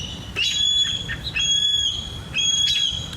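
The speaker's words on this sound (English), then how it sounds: "I've got this annoying-ass bird outside my window that just doesn't shut up." A persistent bird calls outside a window, giving a rapid series of bright, high chirps and trills in bursts, fairly close and loud, with no voices.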